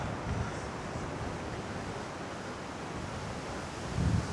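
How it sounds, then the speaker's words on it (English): Strong wind buffets the microphone in a steady low rumble, with harder gusts near the start and end; no voices. "It's so windy, it's ridiculous."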